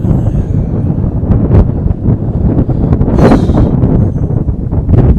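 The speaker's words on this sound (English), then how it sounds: "the wind's firing up even more right now" Wind gusts roar into the microphone at an outdoor high school baseball game, a steady, loud broadband rush that swells and buffets throughout with no clear voices.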